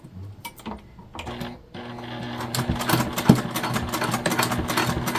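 A sewing machine bastes fabric panels for a crossbody bag, its needle running in a steady, close mechanical patter that quickens and grows louder after a brief start-and-stop.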